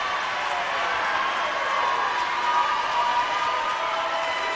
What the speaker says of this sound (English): They're calling a technical on Kaylee Lamarco. You're hearing it from the crowd here.